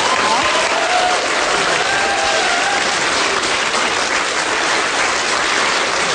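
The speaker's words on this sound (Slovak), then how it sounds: "Potlesk." Loud, dense audience applause fills the whole stretch at a steady level, a broad wash of many hands clapping together with no pauses, heard alone.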